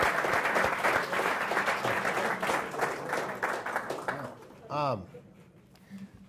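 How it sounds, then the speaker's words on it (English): A business seminar audience gives a round of applause for a guest, steady clapping filling the room for about four seconds before it fades, followed by a brief whistle-like tone and quiet. "Round of applause for Dan."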